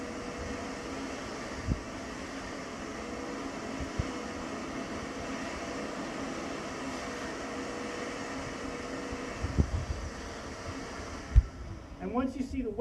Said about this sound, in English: I'll take my hands off of everything and just vacuum.